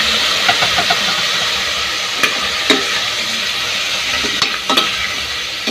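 Beef chunks sizzle steadily in a hot pan while being stirred for caldereta, with a constant frying hiss broken by several sharp clacks and scrapes of a utensil against the pan, close and fairly loud.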